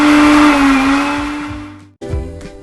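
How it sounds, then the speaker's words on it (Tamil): An electric mixer grinder whirs loudly and steadily, pulverising dry-roasted whole spices into powder, the motor winding down to a stop and then briefly starting again for a short second burst. "பவுடர் பண்ண போகிறோம், பிளெண்ட் பண்ணிக்கணும்."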